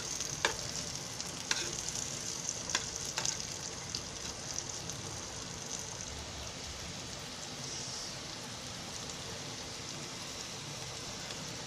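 Bitter gourd (karela) and potato pieces fry steadily in oil in an open pan, a soft continuous sizzle broken by a few light scraping stirs, close and quiet.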